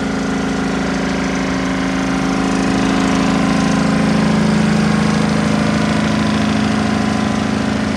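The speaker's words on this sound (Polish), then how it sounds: "Silnik w tej maszynie jest Deutscha." The Deutz diesel of a 2015 Merlo TF42.7 CS telehandler, a 7-metre, 4.2-tonne machine, idles steadily and loudly with an even low rumble throughout.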